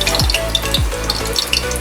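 Potatoes and cauliflower fry in plenty of oil for Bihari halwai-style aloo gobi, a loud, steady close sizzle with two brief scraping stirs of the spoon.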